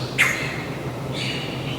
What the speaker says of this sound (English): I hear a bird behind us.